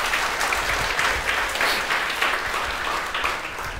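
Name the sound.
congregation applause for Jesus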